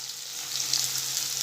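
Finely chopped onion sautéing in hot oil with a bay leaf for Gujarati mixed-dal dal fry, giving a steady, soft, close sizzle with no voices.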